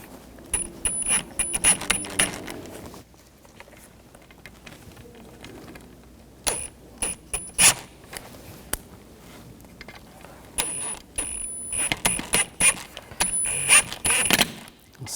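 Screws are tightened into the rear window motor of a 2000-2005 BMW X5 with a ratcheting tool. Short, close bursts of clicking are separated by quiet pauses.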